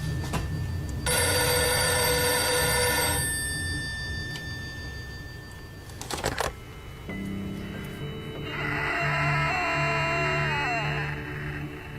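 An old telephone bell rings in a night-time haunting, sounding in two loud, sustained bursts separated by a pause, with no voices.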